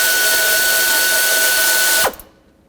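A power tool drives the 14mm nut on the upper alternator mount of a 2001-07 Toyota Sequoia, whirring with a steady high whine for about two seconds before cutting off abruptly into quiet.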